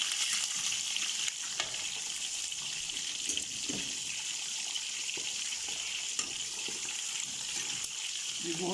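Chicken legs frying in hot ghee give a steady, close sizzle and crackle that runs the whole time, with a few faint clinks and stirring sounds on top.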